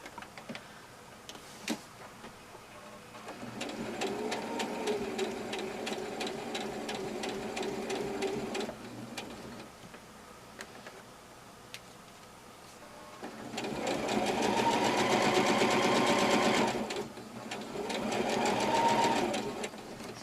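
A sewing machine stitches a patch pocket close by in three runs, a long rapid chatter followed by a pause, then two shorter bursts, with quiet gaps between them.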